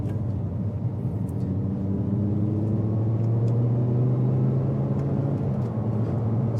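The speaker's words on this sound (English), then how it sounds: "I'm not going to take my foot off the accelerator, changing up with the paddle, still quite jerky" A cold Audi R8 V10 with an R-tronic paddle-shift gearbox pulls away under gentle throttle, its engine a low, steady droning rumble that rises slightly in pitch, heard from inside the cabin.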